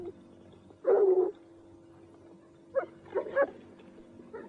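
Dogs barking in short bursts in a tense scene of a 1981 horror film, one loud bark cluster near the start followed by a few quieter yaps later, with no talking.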